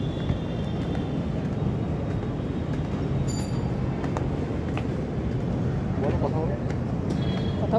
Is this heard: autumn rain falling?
no